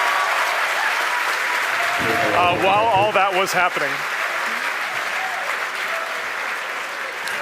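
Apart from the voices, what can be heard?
crowd applauding at SpaceX headquarters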